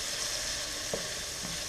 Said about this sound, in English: You just want to fry these onions and scallions for about a minute or just until they start to get nice and brown.